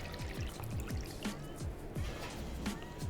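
Water poured into a bowl holding calcium lactate, a close, steady trickle with repeated small splashes and gurgles throughout, no speech over it.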